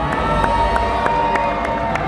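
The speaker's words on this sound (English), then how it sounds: "let us raise a cheer for all of our heroes" A large crowd at a medieval-themed show raises a loud, sustained cheer, a dense wall of shouting and whooping with a few sharper voices rising through it.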